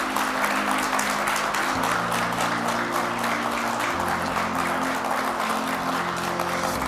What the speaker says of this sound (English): Give a lusty round of applause for Project Apollo.